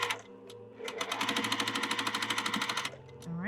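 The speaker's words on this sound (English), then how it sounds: "do that careful 1/4 inch seam again" A sewing machine stitches a quarter-inch quilt seam in a fast, even burst of close mechanical needle clatter lasting about two seconds, with a brief start and stop around it.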